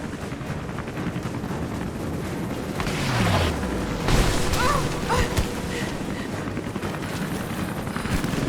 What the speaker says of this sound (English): Corpse bombs.